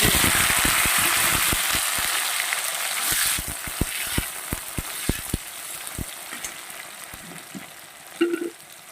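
Cumin seeds fry in hot oil, giving a steady sizzle full of sharp crackling pops that thin out gradually, with a faint clink near the end.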